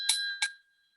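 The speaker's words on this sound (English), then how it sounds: "I ran off and got my bell and played it while something was going on" A small hand bell rings twice in quick succession, bright and close, each strike leaving a short metallic shimmer that quickly dies away.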